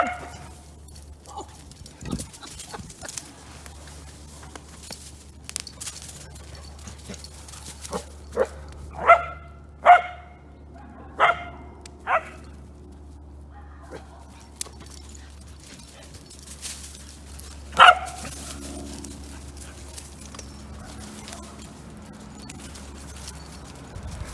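Dogs play together, trading a run of sharp, fairly close barks in the middle of the stretch, with scattered yips and scuffling sounds before and after.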